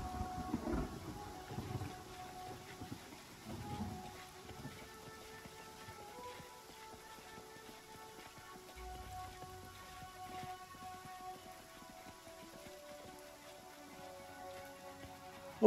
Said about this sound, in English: Boy, it's raining pretty hard.